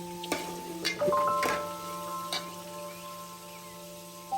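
Two chopped onions and ten to twenty small shallots sautéing in a pan for a beef bone curry, a soft steady sizzle with a few close stirring knocks near the start, then a quieter continuous fry, alone.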